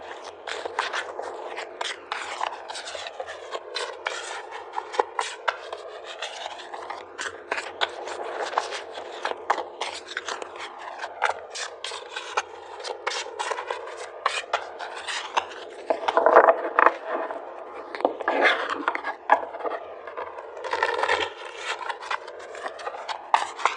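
Tarot cards shuffled continuously by hand, a steady close riffling and rubbing of card stock with repeated sweeping flutters, louder bursts near the end, no talking.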